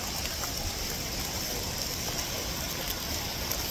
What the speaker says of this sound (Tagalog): bumalik na kami sa bus kasi sobrang lakas ng ulan